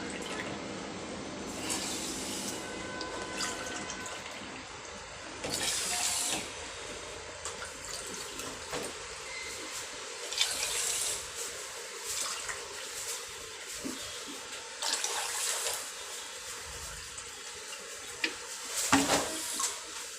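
Water poured into a pot for rasgulla sugar syrup, a continuous splashing and trickling stream with a few brief knocks and gurgles, near and moderate in level, with no talking.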